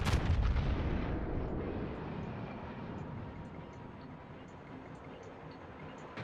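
The warship Hindenburg fires a broadside in a naval combat game. One heavy booming blast opens the clip, then a long rolling rumble fades slowly.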